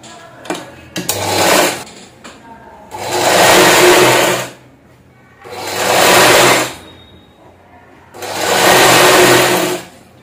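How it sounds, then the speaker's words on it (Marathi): A sewing machine stitches blouse fabric in three long, steady runs of rapid mechanical whirring, each lasting a couple of seconds, separated by pauses and a few small clicks as the cloth is repositioned. "चला मी शिलाई मारून घेते."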